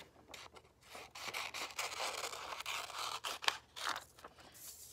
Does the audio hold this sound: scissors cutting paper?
yes